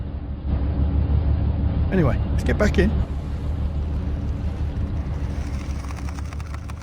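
A ship's engine runs in the Nautic XP ship simulator game as a steady low rumble that continues throughout, with a person talking over it.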